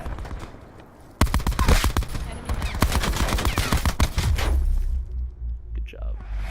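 Rapid bursts of pulse-fired automatic gunfire from an SMG or assault rifle in Call of Duty: Black Ops 4, loud and close, running in short clustered volleys for several seconds before a quieter tail.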